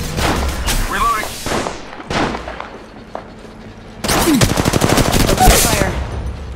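Automatic weapon fire in the mobile battle royale Apex Legends Mobile comes in loud, close bursts with rapid shots, pauses between volleys and a heavier sustained burst at the end, mixed with game effects and brief voice lines.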